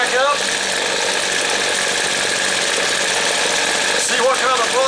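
A small two-stroke engine on outdoor power equipment runs steadily after a quarter-turn carburetor adjustment, holding a loud, even drone close by, with a brief rise in pitch near the end.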